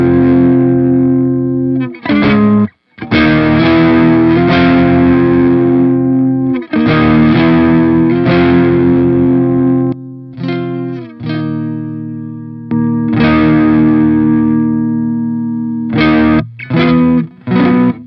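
Overdriven electric guitar through the Primo amp sim with the drive turned up, loud sustained distorted chords in several bursts separated by short gaps, no talking.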